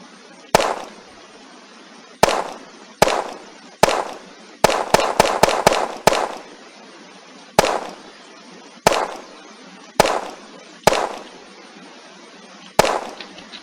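Semi-auto rifle firing in Unturned with Western Front weapon mods, about sixteen sharp, loud single shots with short decaying tails, spaced irregularly with a quick cluster of rapid shots in the middle.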